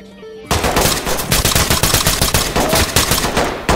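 Rapid automatic gunfire in the tactical shooter Ready or Not, a loud, dense burst of closely spaced shots that starts abruptly after a brief quiet moment and continues without pause.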